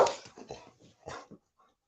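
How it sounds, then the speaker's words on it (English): A dog vocalises close by in a short burst of sharp, whimpering yips and barks over about a second and a half, then falls quiet. "Sorry about the dog."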